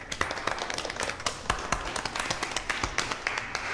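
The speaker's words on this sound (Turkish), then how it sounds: "Bütün alkışlar size." A small group claps in a room, with dense, steady hand clapping close by at moderate loudness, lasting a few seconds with no talk over it.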